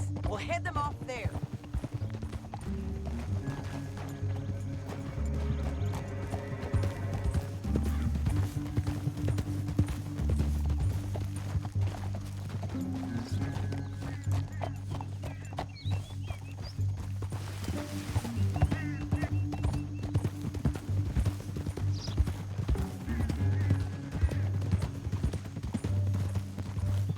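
Horse hooves clip-clop in Red Dead Redemption 2 as riders move through a canyon, a steady rhythmic clatter running under continuous game music and dialogue from start to finish.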